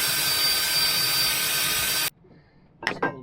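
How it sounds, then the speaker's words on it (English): A loud, steady grinding of a drill boring through steel on a boat runs for about two seconds, then cuts off abruptly, followed by brief faint noises. "I've got more holes to drill."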